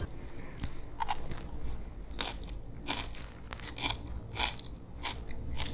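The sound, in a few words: crunchy salted cabbage for kimchi being chewed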